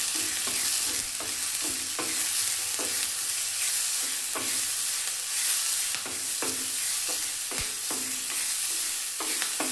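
Onions fry in a pan for a South Indian buttermilk sambar, a steady sizzle broken by regular scrapes and clanks of a spoon stirring them. The sound is close and continuous, with no talking.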